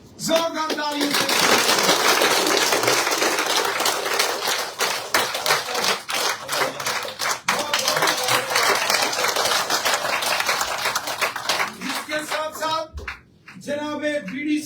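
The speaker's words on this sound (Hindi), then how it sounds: "जोरदार तालियों से" Loud, sustained applause from a large crowd at a political gathering, dense clapping filling nearly the whole stretch before dying away near the end as a voice comes in.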